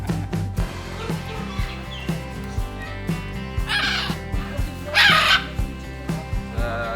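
Birds at an animal park near Mecca give several crow-like caws in short bursts over a loud backdrop of music with a steady beat.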